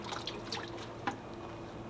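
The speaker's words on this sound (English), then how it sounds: "Rinse it out with some water." Water rinsing out a cleaned crab, a faint, quiet trickle and splash of running water with a few brief drips, close by.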